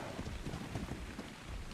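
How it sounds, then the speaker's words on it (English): Rain falls in the video game ARK as a steady, dense hiss of drops with no distinct pattern, fairly quiet and continuous throughout. "Because of the rain."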